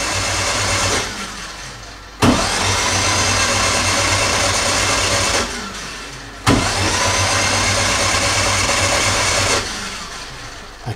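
An MGB car engine turns over during an oil change while oil pressure builds. It makes a loud, close mechanical churn in three long bursts separated by short breaks, with no voices.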